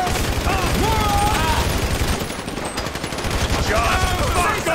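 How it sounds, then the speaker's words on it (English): Dense automatic gunfire from a heist shootout in the GTA 5 video game, continuous close bursts with a brief lull midway, while voices shout over the shooting. "So I guess we're shooting our way out of here!"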